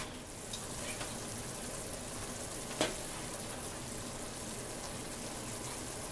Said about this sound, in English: it is basically frying the beef as it browns